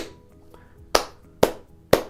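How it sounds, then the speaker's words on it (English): Three sharp, evenly spaced hand claps keep a simple rhythm in a quiet room, each one close and crisp, with a faint softer tap before them. "whenever we clap the eighth note rhythm"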